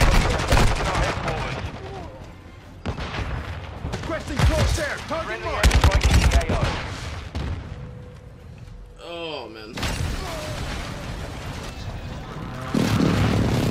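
Dual Desert Eagle .50 pistols fired akimbo in Modern Warfare 2, with repeated loud heavy shots and explosions mixed with game announcer callouts and background battle noise across the whole stretch.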